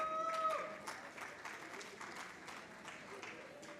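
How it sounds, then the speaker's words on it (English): An audience at the Kampala Impact Day 2023 event claps to welcome a speaker onto the stage, a moderate, sustained patter of many hands heard from within the room, fading slightly. "A big hand clap."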